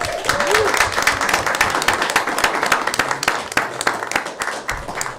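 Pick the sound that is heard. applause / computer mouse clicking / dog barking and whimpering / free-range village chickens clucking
applause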